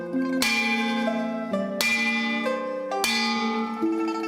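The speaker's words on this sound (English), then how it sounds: "That was a flat bell ring." Three loud strikes of a flat-sounding bell, each ringing out with a long, shimmering decay before the next, evenly spaced a little over a second apart with no voices.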